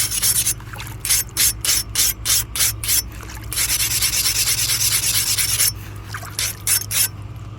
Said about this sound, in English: you just rub the stone against the rust